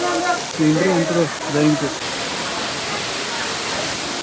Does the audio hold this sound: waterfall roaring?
yes